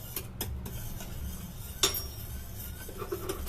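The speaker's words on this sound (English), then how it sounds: "So next, see, whisk nicely." A whisk stirs khus khus kheer mixture in a bowl, giving soft continuous swishing with scattered light metallic clinks against the bowl, close up and fairly quiet.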